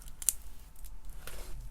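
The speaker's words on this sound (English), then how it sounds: "Just got to get my scissors in there." Scissors snip paper in a craft session, a few sharp, quiet cuts scattered across a brief moment, close by against a low background hum, no talking.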